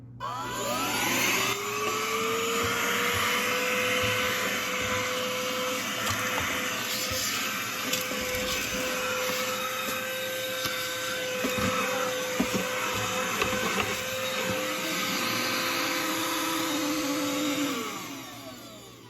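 A mini Brigii handheld vacuum cleaner runs steadily for about sixteen seconds while sucking up big chunks of debris, its loud, constant whine spinning up at the start and winding down at the end, with faint rattles of debris along the way.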